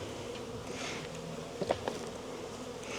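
Honey bees buzz in a dense, steady drone during a spring hive inspection of insulated condensing hives, with a few closer passes and light tapping sounds standing out briefly.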